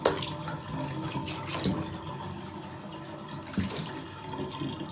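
Water runs steadily from a tap for a pet bird's shower, a continuous close splashing flow with a few louder surges and no talking.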